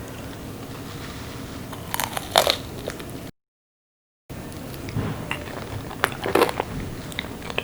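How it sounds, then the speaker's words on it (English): Crunchy bites and chewing of a fried crab wonton stuffed with cream cheese, a few crisp crackling crunches close up over a steady hiss, broken by a short gap of silence. "I'm gonna take a bite, see how it is"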